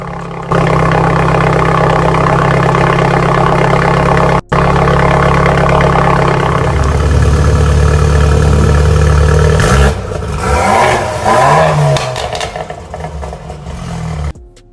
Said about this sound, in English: That was my favorite exhaust setup thus far on the F30.